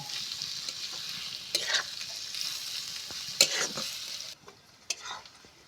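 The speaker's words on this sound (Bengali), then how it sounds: "ভালো করে নেড়ে চেড়ে ভেজে নেব" Chilli and onion being stirred and fried in oil in a pan for papaya bharta, a steady close sizzle with sharper scraping bursts of the spoon against the pan, quieter near the end.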